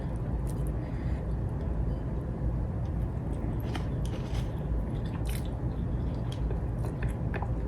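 Someone chews fried shrimp chili paste with sticky rice close to the mic, giving soft, steady crunching and squishing over a constant low rumble of background noise, with brief talk.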